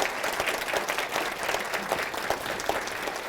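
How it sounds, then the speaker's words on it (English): Audience at a chamber of commerce awards event claps together in steady, dense applause that holds at an even level from start to finish. "let's give a round of applause for all the people here standing."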